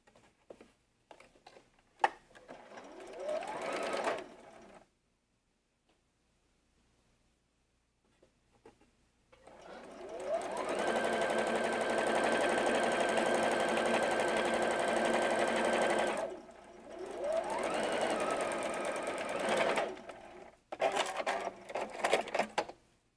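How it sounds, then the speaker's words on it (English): A sewing machine stitches one straight seam joining a red fabric piece into a quilt block. It runs in close, even bursts of rapid needle chatter, with short stops and a longer silent pause between runs. "Now we're going to put this red piece on, right sides together, and sew that full seam."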